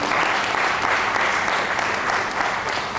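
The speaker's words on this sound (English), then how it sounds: "Can we give her a round of applause?" Audience applause at a university gathering honoring a guest, a full, steady burst of clapping from a sizable crowd sustained at even loudness.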